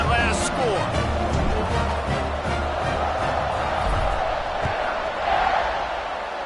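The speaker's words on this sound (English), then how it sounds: "this crowd is buzzing after that last score" A football stadium crowd at Baylor vs OU keeps up a loud, steady roar and buzz after a score, with scattered shouts rising from the stands. A commentator talks over the noise the whole time.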